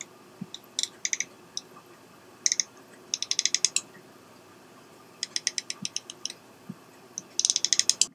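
Aperture ring of a Schneider-Kreuznach 25mm F1.4 cine lens being turned, giving close, crisp mechanical clicks in quick bursts of several clicks with short pauses between, alone in a quiet room.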